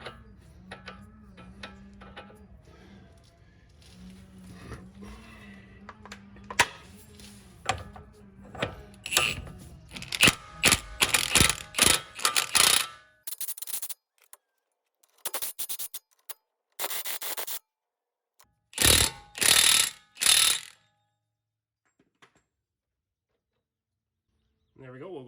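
Chevrolet Malibu axle nut being threaded onto the hub during a wheel bearing replacement, a run of quick ratcheting and metallic clicks that grows into loud clustered bursts, with a low steady hum early on.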